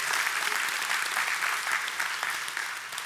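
Church audience giving a round of applause during a sermon, a dense, even wash of clapping heard alone for the whole span, slowly fading slightly toward the end.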